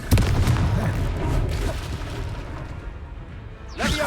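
In the Hogwarts Legacy video game, a Confringo spell bursts into a loud booming explosion that opens with a sharp crack, then rolls into a long rumbling decay, and a fresh whooshing burst rises at the very end.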